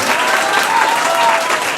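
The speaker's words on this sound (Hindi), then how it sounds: "तो एक बार जोड़ा ताली रोशनी के मम्मी के लिए" An audience in a hall claps loudly and continuously in a short burst of applause for a student topper's mother at an award ceremony in Banka district, Bihar.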